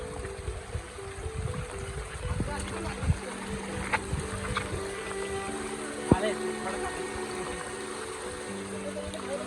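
The Indrayani river near Pune rushes in flood after heavy rain, making a continuous broadband roar of flowing water close by, with a person talking over it throughout.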